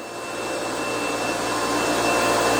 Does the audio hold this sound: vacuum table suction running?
yes